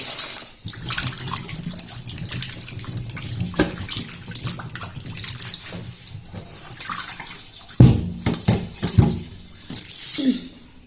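Tomatoes are washed under running water in a kitchen, giving a steady gush of flowing water with splashes and irregular handling clatter. The sound is close and fairly loud.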